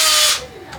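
A power drill drives a small screw into a strike plate: one short, loud whirring burst that cuts off and fades within a second.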